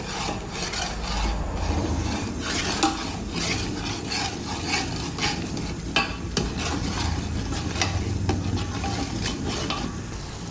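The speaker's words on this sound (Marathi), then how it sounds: "कश्मीरी मिरची पूड थोडीशी हळद सगळं छान मिक्स करून घ्यायचं" Spices, including Kashmiri chili powder and turmeric, fry in a pan for dal makhani while a spoon stirs and scrapes repeatedly, giving a close, continuous sizzle with rhythmic rubbing strokes and no voices.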